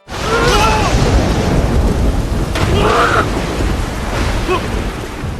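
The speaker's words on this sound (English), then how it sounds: "the previously clear sky suddenly filled with thunder and lightning, followed by a violent rainstorm" A violent rainstorm with thunder and lightning in a film scene: loud, continuous rain roar with deep thunder rumbles rolling underneath, dense and close throughout.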